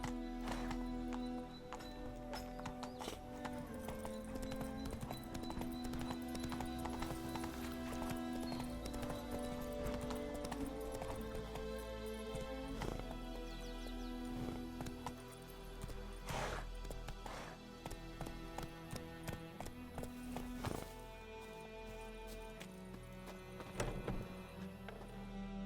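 Roach, Geralt's horse in The Witcher 3, walks with even clip-clop hooves over steady game music, letting out occasional snorts and neighs along the way.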